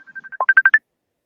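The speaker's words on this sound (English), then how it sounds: "Is that my phone coming through?" A phone gives a short electronic notification melody, a quick run of bright rising beeps that ends abruptly, loud and clear with no other sound.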